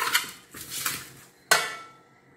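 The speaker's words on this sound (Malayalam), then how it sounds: "ഇതെല്ലാം കൂടെ ഒന്ന് മിക്സ് ചെയ്യാം." A spoon clanks and scrapes against a metal pot while ingredients are mixed. There are several scraping strokes and then one sharper knock that rings out briefly. No one speaks.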